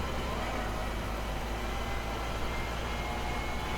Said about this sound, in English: Actually, James, it really does sound like a bus, this thing.